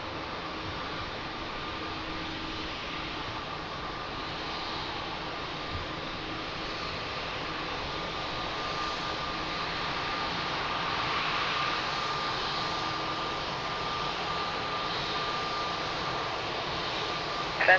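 An airplane lands at Lisbon Airport, its engines a steady broadband roar heard from a distance that swells slightly toward the end, with no voices.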